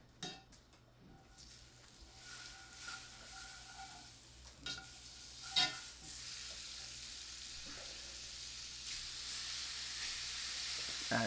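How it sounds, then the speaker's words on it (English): Steady frying sizzle from a steak in a hot pan, a constant hiss with occasional sharper pops and crackles, continuous throughout with no talking. "You guys can hear that sizzling up."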